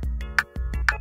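A rhythm track generated in an audio editor, a looped synthetic beat with a steady low tone underneath and bright clicks falling about every half second, evenly spaced and alone.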